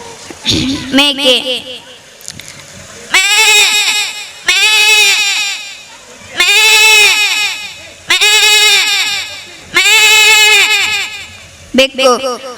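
A performer at a school annual-day function imitates a goat on stage, giving a run of loud, wavering bleats, six or so drawn-out calls separated by brief pauses, close to the microphone.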